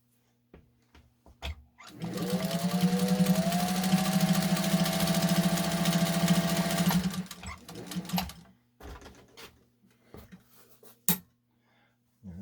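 A restored Singer 201 sewing machine runs in a steady, close, whirring hum for about five seconds, its pitch rising slightly as it speeds up, framed by scattered clicks and handling knocks before and after.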